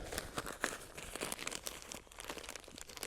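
A plastic eco pot bag is cut and pulled away from a potted tree's root ball. It gives off a steady run of close, dense crinkling and tearing rustles for the whole stretch, with no talking.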